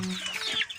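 Chicken clucking close by on a backyard farm where pigs are also kept, a short run of sharp clucks with a brief thump at the end, no talk over it.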